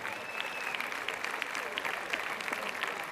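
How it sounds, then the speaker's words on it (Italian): A large crowd gathered in the evening at Ollolai for the Palio degli Asinelli applauds continuously, a dense, steady patter of many hands clapping, while a voice speaks over it. "sentite che bello l'applauso delle tantissime persone che si sono date appuntamento"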